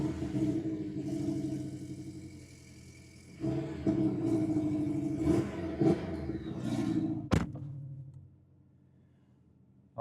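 A Porsche 718 S Boxster fires up with a sudden rumble and settles into a steady idle. A sharp clack follows later, and the engine note then drops away to near quiet.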